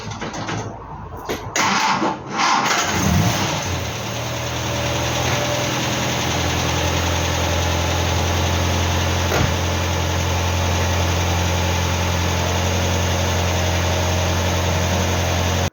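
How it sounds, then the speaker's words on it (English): A Hillman Superminx engine cranks and catches with a few uneven bursts, then settles into a steady, close, even idle hum that continues alone. "Right, we'll just get the car warmed up."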